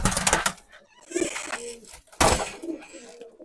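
A male Nildumma pigeon held in the hand gives close, breathy cooing in a few separate bursts with short quiet gaps between them, plus faint rustling.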